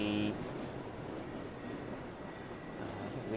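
A train on the Albula Line in Switzerland, simulated in a railway game, rolls along steadily with a continuous rumble and faint wheel squeal throughout.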